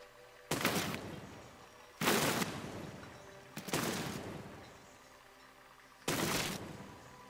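Bombs blow up a brick contraption in the physics building game Besiege: four sharp separate blasts, each with a decaying rumble, spaced about one and a half seconds apart, fairly quiet and alone.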